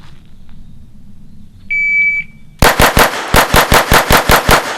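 A SIG P320 pistol fires ten rapid shots in quick succession after a brief electronic start beep from a shot timer, each report sharp and loud at close range.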